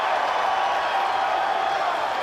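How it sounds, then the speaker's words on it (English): A large wrestling crowd in a Philadelphia arena roars continuously in a dense, enthusiastic wash of cheering and applause. "Really an enthusiastic crowd here in Philadelphia."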